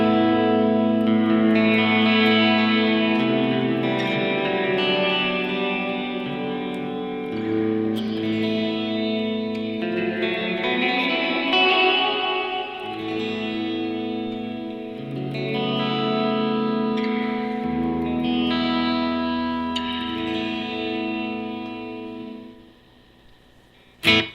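An electric guitar switched to single-coil mode plays sustained chords and notes through delay and reverb pedals, with echoing repeats and a lush wash trailing each phrase; no one speaks.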